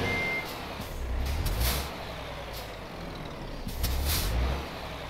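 In Euro Truck Simulator 2, a truck stuck in mud on a Brazilian map revs its engine in two heavy surges with a hissing air release between them, loud and alone.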